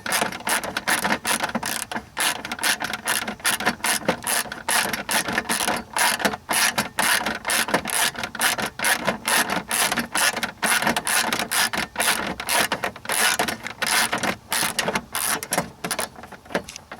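A tool rapidly ratchets as shield bolts on a 2001-2007 Ford Taurus are tightened, a dense run of fast clicks filling the whole stretch at close range, loud and continuous with no talk.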